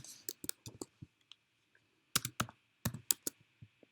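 Fingers type on a computer keyboard in short bursts of crisp, close clicks separated by pauses, in an otherwise quiet room.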